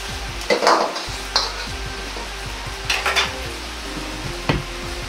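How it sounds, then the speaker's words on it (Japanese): Chinese-style meat omelette sizzling in oil in a shaken pan, a steady frying hiss with rhythmic scraping and clinking of the pan and utensil. "裏面の底も鍋を揺すりながら均等に火を通します。"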